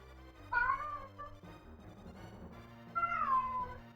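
A cat meows twice, a drawn-out plaintive call near the start and another after a pause, fairly close but soft over a quiet background hum.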